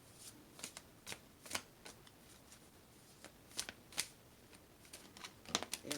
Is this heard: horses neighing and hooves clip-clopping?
no